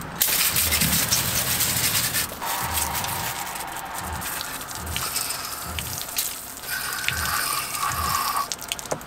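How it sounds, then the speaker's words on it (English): Fresh water running from a tap or hose over fishing reels to rinse off salt water, a steady splashing wash with small drips, moderately loud and continuous throughout with no voices. "I always try to remember to rinse the reels off after you use them in salt water."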